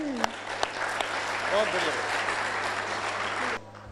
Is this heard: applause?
yes